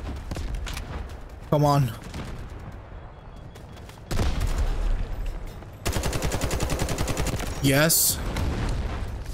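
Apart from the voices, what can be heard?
gunfire in the video game Delta Force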